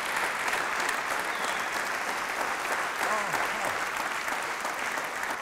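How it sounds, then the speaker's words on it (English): Audience applause at a magician's stage show as a volunteer comes up, a steady sustained clapping wash from a full room with faint voices underneath. "Please give a round of applause."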